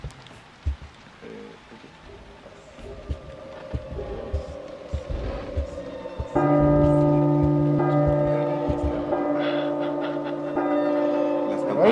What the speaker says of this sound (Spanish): son 12 campanadas que tienes que esperar